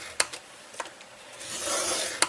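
Cardstock is scored on a scoring board: a stylus rasps along the paper in a soft, close scratching stroke, framed by a few light taps and clicks.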